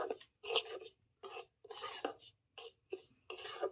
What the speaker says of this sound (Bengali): চিনিটাকেও ভালো মতো মিশিয়ে নেব